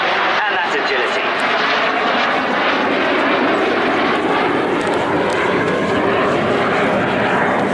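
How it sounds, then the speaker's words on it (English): A BAC Strikemaster jet with underwing hard points flies a display at the Bournemouth Air Festival, its loud, continuous engine roar filling the whole stretch while a commentator talks over it. "you can see that Strikemaster derivative, those hard points, with extra wing fuel, and that agility."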